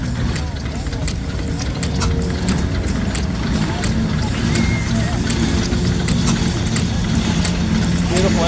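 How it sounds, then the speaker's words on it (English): A 5-horsepower side shaft Tangye engine runs at a classic engine show, producing a steady loud rumble with regular light clicking beats, while someone talks over it. "Here we got a beautiful side shaft Tangy."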